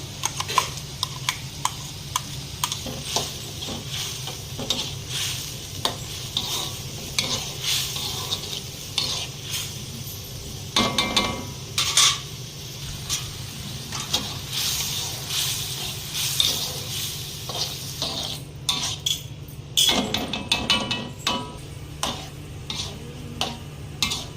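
Mushroom soup cooking in a pan, with a spoon stirring in steady, irregular scrapes over a soft, continuous simmering sizzle, close and fairly quiet throughout.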